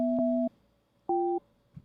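Two steady electronic tone bursts, each about half a second, separated by a pause, like a phone ringing tone heard over the line.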